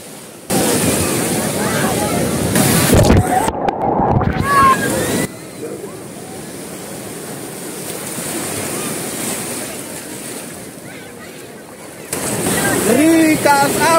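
Ocean waves rolling and sloshing at a beach south of Lima, Peru, a loud, continuous wash of surf close by, with brief handling knocks partway through.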